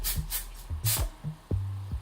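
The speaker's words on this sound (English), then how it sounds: "So I'm just going to spray that into my hair." Garnier Fructis Texture Tease hair spray is sprayed into hair in a few short, quiet hissing bursts with brief gaps between them.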